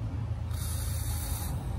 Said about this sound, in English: Before you take out the spark plugs, you'll want to spray in some lubricating compound